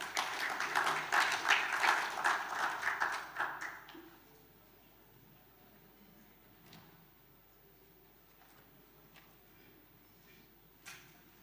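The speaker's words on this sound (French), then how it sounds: "Monsieur le ministre, Excellence, je vous demande de l'applaudir," Audience applause at the closing ceremony of the 2nd Lake Chad Governors Forum, honouring the minister. It fills the first four seconds and then stops abruptly. After that comes a quiet room with a few faint knocks.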